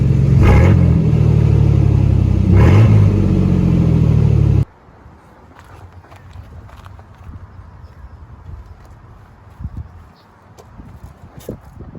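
A loud, raw straight-piped truck engine with a Magnaflow exhaust roars and revs hard for several seconds, then cuts off abruptly, leaving quiet background rustling and faint noises.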